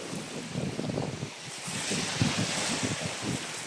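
Sea waves wash along the shore at Taytay, Palawan, a steady broad rush of surf mixed with gusting wind buffeting the microphone, with no voices.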